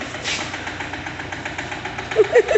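A tractor engine chugs steadily nearby, a low rumbling drone with some louder knocking bursts near the end.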